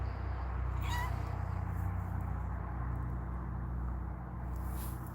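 A farm cat lets out a single faint meow early on, set against a steady low rumbling background hum.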